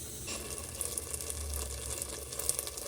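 Jaggery being stirred into cracked-wheat fada lapsi in a pressure cooker as it melts, giving a steady low sizzle with soft scraping stirs throughout, close and moderately quiet, no talking.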